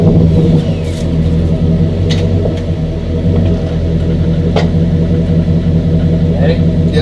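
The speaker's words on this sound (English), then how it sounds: "we got the trailer hooked up to the truck. We're going to pull it forward about 3 feet or so" A truck engine runs steadily while hitched to a trailer carrying a Boston Whaler 13 boat, giving a constant low rumble with a few faint clanks and knocks over the top.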